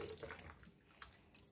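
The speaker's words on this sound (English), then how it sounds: "Let's rinse the salt off. Fill the water in the bowl." Pieces of bitter gourd rinsed by hand in a bowl of water: soft sloshing and splashing, quiet and close, alone without talk.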